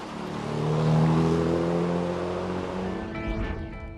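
A pre-war BMW 328 sports car with a 2-liter, 80-horsepower engine drives past, engine note swelling loud and close, then fading as it pulls away with a whirring tone.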